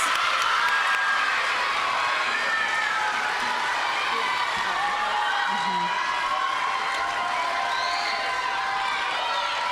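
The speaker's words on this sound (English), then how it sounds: "then we'll give them a nice big round of applause" A school crowd of students and families cheers and applauds sixth-grade award winners at an awards ceremony, a sustained roar of mixed clapping and young voices shouting, loud and continuous.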